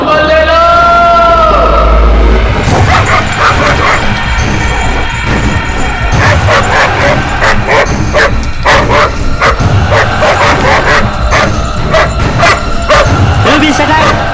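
Ruby the dog barks and yips repeatedly in loud, close bursts, mixed with whimpers, while people talk over the noise.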